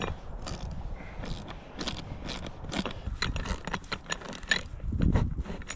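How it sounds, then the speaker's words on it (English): A ratchet with a half-inch socket starts a bolt while an OVS 180 awning is being installed. Quick repeated clicks and metallic rattles come in bursts, close and moderately loud, with some handling noise between them. "I'm using a 1/2 inch socket, and we're just gonna get it started"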